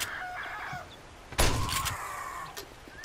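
Fowl-like squawks and clucks from a bird in 7 Days to Die, short, fairly faint calls near the start and a sharper thunk-like burst in the middle, with no talk.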